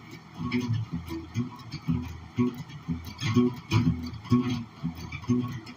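Guitar picking a chugging, rhythmic pattern that mimics a train, steady repeated beats with bright overtones, played fairly close.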